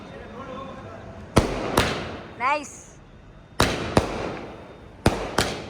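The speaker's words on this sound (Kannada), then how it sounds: "ಪಟಾಕಿ ಇಲ್ಲಿ ಬಂತಾದ್ರೂ ಟೆನ್ಷನ್ ಇಲ್ಲ" Firecrackers burst at a shop opening in Shiggaon, sharp loud cracks arriving in pairs three times, with a whistling rocket between them and people talking nearby.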